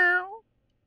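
A person imitates a cat's meow: one short, clear, high-pitched mew that rises and then trails off, heard alone at close range and followed by silence.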